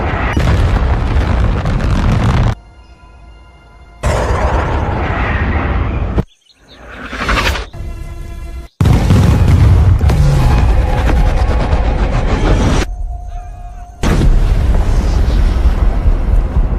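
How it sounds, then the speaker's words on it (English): Heavy bomb explosions in an action movie roll out as loud, sustained booming blasts with dense rumbling, broken by short quieter gaps before new impacts hit. "Kenny, drop that fucking bomb."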